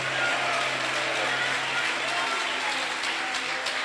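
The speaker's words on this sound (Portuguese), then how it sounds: "Desocupem as suas mãos, batam palmas e glorifiquem a Jesus" A church congregation clapping hands during a sermon, a dense, steady wash of many hands clapping together at moderate volume, with a faint low hum beneath.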